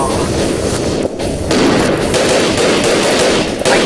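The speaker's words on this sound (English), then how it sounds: "this gun is like fucking ballistic" Rapid bursts of gunfire from the first-person shooter Double Action Boogaloo, loud and continuous with dense automatic shots and booms, no talking.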